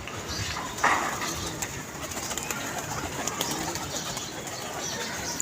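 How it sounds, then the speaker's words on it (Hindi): A captured pigeon coos softly at close range over a steady background hum, with a brief flutter of wings early on. "ये मैंने कबूतर पकड़ा हुआ था बहुत ज़बरदस्त है"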